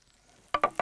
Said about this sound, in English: When you're happy that you think your frying pan is nice and hot, shallots go in, and you hear that.